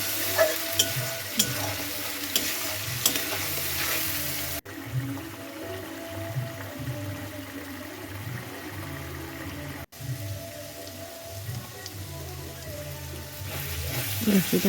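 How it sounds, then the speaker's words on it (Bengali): Garlic paste fries in oil in a pan for khichuri, a continuous close sizzle broken by repeated scraping stirs. "এটাকে খুব ভালোভাবে ভেজে নেবো যতক্ষণ না পর্যন্ত তেল ছেড়ে যাচ্ছে কারণ রসুনের পেস্ট ভালোভাবে না ভাজি আবার গন্ধ ছাড়ে"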